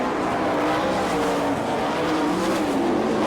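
Sprint cars race at an All Star Circuit of Champions event in Bloomington, Indiana. The engines drone loud and continuous, the pitch wavers as cars pass, and nobody talks.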